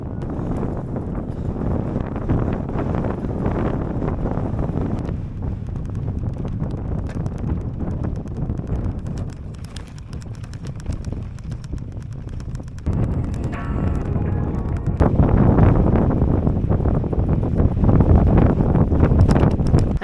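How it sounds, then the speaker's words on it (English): Strong wind gusts across a mountain lake in the Rockies, buffeting the microphone with a constant loud roar and rumble that swells toward the end, with no voices. "the wind is blowing like crazy"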